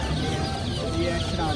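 Chicks clucking and peeping in a dense, continuous chorus at close range, many birds calling over one another without pause.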